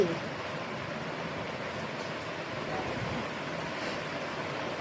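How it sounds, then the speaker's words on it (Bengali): Water waves splash and wash in a continuous broadband rush, fairly faint and steady, with wind noise across the microphone and no distinct voices. "এই দাদা দেখো কত ঝাপটা আসছে"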